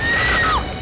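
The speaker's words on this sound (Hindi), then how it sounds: "क्या चीखने की आवाज आई?" A woman's shrill scream in a Hindi horror show, one loud, close, sustained cry that slides down in pitch and cuts off abruptly after under a second.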